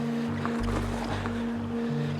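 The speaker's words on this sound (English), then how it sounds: "stream which is full of water now from the snow melting in Sarek, the Sarek glaciers." A glacial meltwater stream in Sarek, full from melting snow and glaciers, rushes steadily nearby as a continuous broad roar with a low constant hum underneath.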